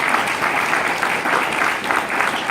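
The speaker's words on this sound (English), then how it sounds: "applause for that" An indoor audience at a regional business training event applauds, a dense, steady burst of clapping that fills the whole moment without any speech over it.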